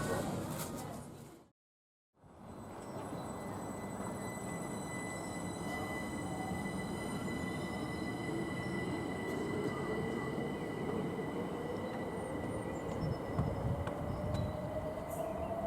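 Diesel locomotives 57 and 45 heading to Windham Abbey, a steady heavy rumble of passing rail traffic heard from a roadside restaurant, continuous and moderately distant after a brief cut near the start.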